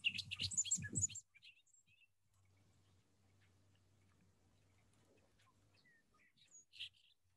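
Bobolinks singing out in open grassland: short bursty bubbling phrases near the start, then a quiet stretch with low hum, and another brief burst of bright, metallic notes toward the end.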